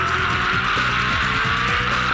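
Onboard a V8 Supercar on the Surfers Paradise street circuit in 2003: a loud, constant engine roar with repeated rising and falling pitch sweeps as the car brakes hard from high speed and downshifts.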